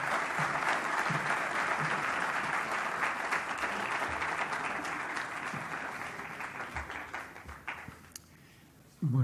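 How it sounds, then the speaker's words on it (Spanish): A lecture audience gives warm, sustained applause for Doctor Martí Jiménez, a thick, even patter of many hands that gradually thins and fades toward the end before a brief pause. "demos un cordial aplauso al doctor Martí Jiménez"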